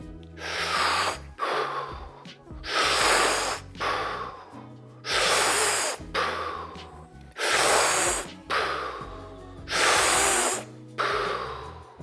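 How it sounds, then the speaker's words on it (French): Five deep, forceful hyperventilation breaths taken as preparation for a breath-hold exercise, each a loud, rushing breathy burst of about a second separated by short pauses, close and alone. "Maintenant, nous allons faire exactement le même exercice, mais on va le précéder de 5 hyperventilations."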